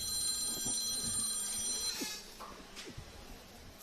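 A telephone rings during a live Mini O's event broadcast, a bright electronic trill lasting about two seconds before cutting off, leaving quiet background noise and small knocks.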